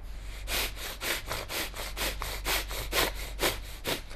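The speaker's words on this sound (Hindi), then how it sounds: "सांस को फोर्स से लेना फोर्स से छोड़ना" Rapid, forceful yoga bellows breaths in and out through the nose repeat in a steady rhythm, about two per second, close and rasping.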